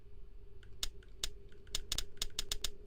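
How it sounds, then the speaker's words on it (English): Sharp, quiet clicks from a camera flash failing to fire in the video game Heartworm, a dozen or so in an uneven burst, some rapid pairs, over a faint low hum. "That's my flash not working."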